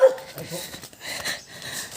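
Short yips and a soft whimper come from a nearby dog on a forest path in rural Bicol, Philippines, several quick, uneven bursts over two seconds, fairly close and clear.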